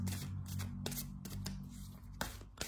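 Tarot cards shuffled by hand in a steady stream of soft, papery riffling bursts over a low background hum, close and continuous, with two sharper flicks near the end and no talking.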